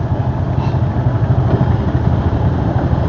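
Several motorcycles stopped and idling together in heavy rain, a steady low engine rumble mixed with dense rain noise, continuous and close for the whole stretch with no talk.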